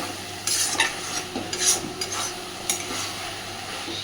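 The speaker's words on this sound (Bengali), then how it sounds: "খুব ভালোভাবে নাড়াচাড়া করে দিচ্ছি আর এখনও অল্প অল্প জল বেরোচ্ছে" Arum stems stirred and fried in a pan to dry off their water, a steady close sizzle punctuated by repeated spatula scrapes and clinks against the pan.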